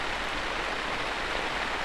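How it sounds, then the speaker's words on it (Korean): Heavy monsoon rain pours down on a forest by the upper Bukhan River, a steady, dense roar of water, constant and loud throughout with no other sounds. "한두 방울 떨어지던 빗방울은 이내 폭우로 변한다."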